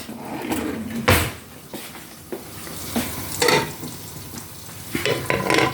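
Food sizzling and crackling steadily in a hot pan, with occasional scrapes and clatters of stirring over the constant fry.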